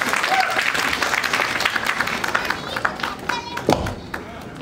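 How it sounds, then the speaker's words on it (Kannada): Scattered clapping from an audience at a Kannada film launch event for the movie Click, uneven and moderate, mixed with crowd murmur and voices. "ಒಂದು ಜೋರಾದ ಚಪ್ಪಾಳೆ ಬರಲಿ"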